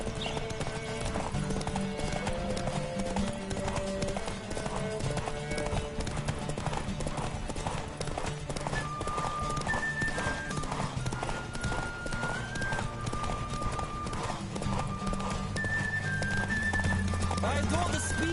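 Horse hooves clop rapidly in a galloping race in The Witcher 3, a steady fast rhythm with an occasional whinny, under game music and a spoken voice.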